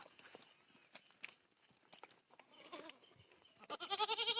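Goats, hornless by nature, bleat in a farm setting, with scattered calls and hoof-like knocks building to a loud, close, wavering bleat at the end.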